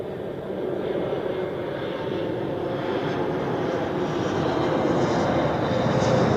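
Helvetic Airways Embraer jet arriving from Frankfurt at Zurich Airport, a loud, steady engine roar that holds evenly through the whole stretch with no talking.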